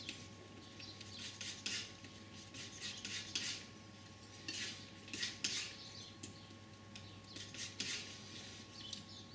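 Palette knife scraping and mixing white, ultramarine and a touch of red oil paint on a palette, giving soft repeated scrapes and taps in irregular strokes over a steady low hum, close and fairly quiet.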